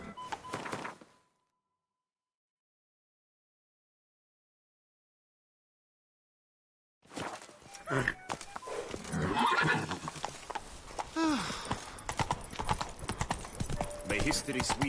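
Roach, Geralt of Rivia's horse in The Witcher 3 game, gallops with steady hoof clip-clops and a whinny, cutting off after a second, then returning after a long silence among game effects and voices.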